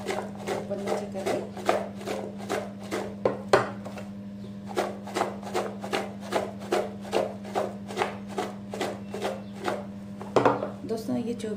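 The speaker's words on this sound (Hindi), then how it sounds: "अब इसे हम अच्छे से मिक्स कर लेंगे" Pickle being stirred with salt in a pot, a steady run of scraping, knocking strokes of a spoon against the pot's sides in an even rhythm, close up, over a constant low background hum.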